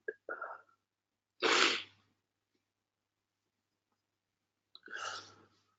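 Three sneezes from a person with an irritated, runny nose, close and fairly soft: a quick double burst, a strong sneeze a second later, then another after a long silent pause.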